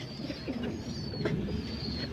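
Pigeons kept in a coop give soft, low cooing calls that run steadily and fairly close throughout, with a faint high tone above.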